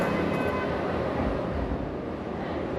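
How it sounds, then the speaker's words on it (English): A train at a station in Washington Heights, New York, a continuous low rumble and hiss of rolling rail cars at close range. "This is a train station."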